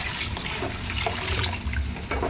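Water is poured from a cup into a cooking pot while making mutton mandhi, a steady close splashing rush that lasts the whole time, with no talking over it.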